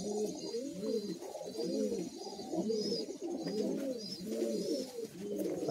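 Several Madrasi high-flying pigeons coo continuously in a loft in Kolkata, in rolling, overlapping phrases, fairly close, with a steady low murmur of cooing throughout.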